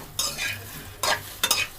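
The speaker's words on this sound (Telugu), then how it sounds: "ఇలా ఫ్రై చేసుకున్నాక ఫ్రై చేస్తూ చూడండి ఎలా మగ్గిపోతూ ఉంటాయో" Okra frying in a kadai with mango, stirred in three distinct bursts of scraping sizzle over a softer steady hiss, close up with no talk.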